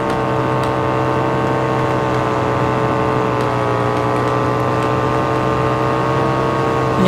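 A Harley and a Royal Enfield Bullet motorcycle drag racing on a track give off a smooth, unbroken exhaust drone that holds steady and loud for several seconds, a slight surge near the end.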